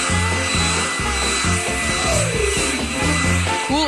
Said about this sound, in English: With the help of a hairdryer.